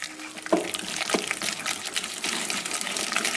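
Cheesecake batter for an Oreo brownie cheesecake, flavoured with orange, is whisked in a bowl. The wet slapping and sloshing is steady and close, with a few sharper taps against the bowl.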